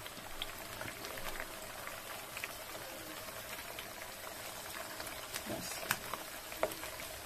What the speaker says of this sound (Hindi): तो इन्हें हम फ्राई होने देते हैं, बिल्कुल स्लो फ्लेम कर देंगे हम, जिससे कि बिल्कुल अंदर तक हमारे कबाब फ्राई हो।